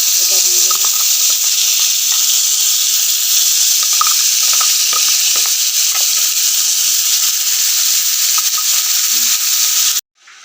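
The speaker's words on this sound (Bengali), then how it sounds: "এবার আমি যে পেস্টটা বানিয়েছিলাম এটা দিয়ে দেবো।" Spice paste hits hot oil in a wok already holding bay leaf, cinnamon, cloves and cumin, giving a loud, steady, close hiss and crackle that runs unbroken for about ten seconds before cutting off abruptly.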